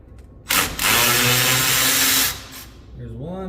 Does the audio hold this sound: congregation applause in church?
no